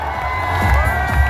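An audience at a stage show cheers with a steady, loud roar of crowd noise and shouts over the whole moment.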